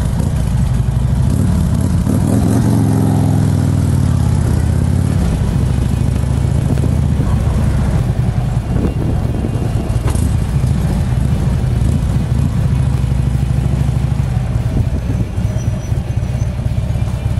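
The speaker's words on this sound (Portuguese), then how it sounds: "Escapamento Vansenheims, coisa linda, ó." A motorcycle engine with an aftermarket Vansenheims exhaust idles and revs with a deep, throaty exhaust rumble, loud and close, sustained throughout with swelling bursts of throttle.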